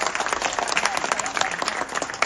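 An audience at an award ceremony applauds with dense, sustained clapping that holds evenly from start to finish.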